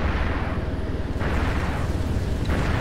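Heavy, sustained rumbling explosions from a hit on target in the Superhind helicopter video game, loud and dense, with a second blast swelling in partway through.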